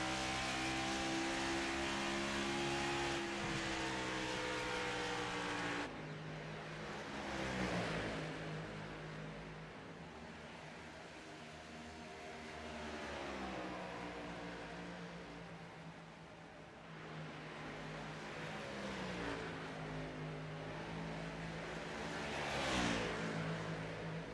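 Race cars at Dover Motor Speedway, with engine roar rising and falling as cars pass around the track, a continuous layered drone with distant swells, fairly faint and without nearby talk.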